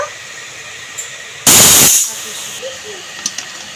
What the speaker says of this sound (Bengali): গ্যাস অন করে প্রেশার কুকার বসিয়ে দিয়েছে দুটো সিটি দিয়ে নেব